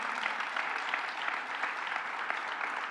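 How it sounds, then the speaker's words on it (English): A crowd claps steadily, a dense patter of many hands at moderate distance, holding even throughout with no voices over it. "let's give them a round of applause"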